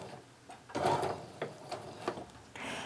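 A sewing machine stitches herringbone quilt strip pieces in short uneven bursts, with a mechanical whir and clicking close by and fabric handling between runs.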